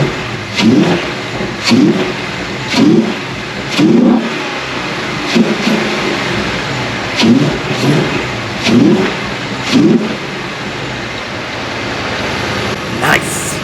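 A Ford Mustang Dark Horse V8 is revved repeatedly, loud and close: about ten short, punchy blips at a steady pace over a rough idle.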